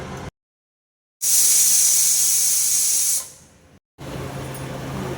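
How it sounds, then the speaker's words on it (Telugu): A pressure cooker holding a lamb trotter stew releases steam in a loud, close hiss lasting about two seconds, then tapers off between quieter kitchen background noise. "ప్రెషర్ తీసేద్దాం ప్రెషర్ తీసేద్దాం"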